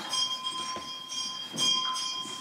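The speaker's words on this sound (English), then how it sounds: "Sergeant Adams, you may ring the bell." A legislative chamber's division bell rings for a standing vote, a steady sustained electric ringing that holds through the whole stretch, fairly close and without speech over it.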